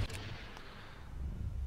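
Cannon fire from a space battle in the strategy game Star Wars: Empire at War Expanded, rendered as rumbling low booms and a couple of sharp bursts that roll on steadily with no talk.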